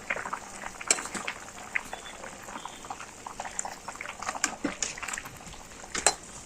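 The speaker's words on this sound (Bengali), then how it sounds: "তরকারিটা ফুটে গেছে, মাছের মাথা দিয়ে দেবো" A pot of curry with hilsa fish and ridge gourd bubbles and simmers steadily, with soft popping and scattered sharper crackles, fairly close and moderately quiet.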